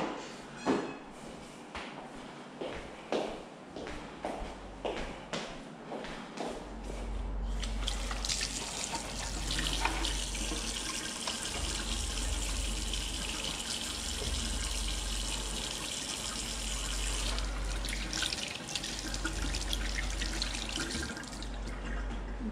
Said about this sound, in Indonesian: Kemudian sebelum kita ke pasien, kita cuci tangan terlebih dahulu.